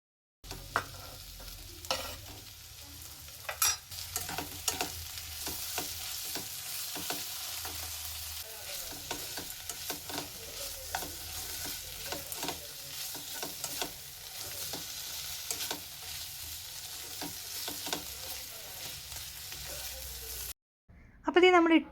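Onion, capsicum and paneer sauté in a pan with a steady sizzle broken by frequent scraping stirs, fairly close and moderately loud, with a short pause near the end.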